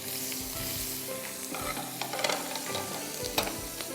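Prawns fry with dill in a hot pan, a loud, busy sizzle with intermittent scraping stirs and clinks of a utensil against the pan, close up and without talk.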